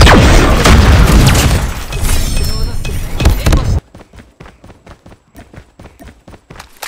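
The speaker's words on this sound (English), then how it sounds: "Be advised, hostile predator missile inbound." A predator missile explosion in a multiplayer shooter game lands as a loud, broad blast lasting several seconds before cutting off sharply, followed by quieter scattered impacts and clatter.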